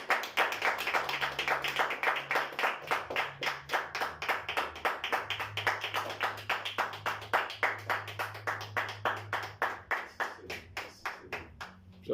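A church congregation claps together during a morning worship service, with steady rhythmic handclaps repeating throughout, loud and close, over a low sustained musical tone.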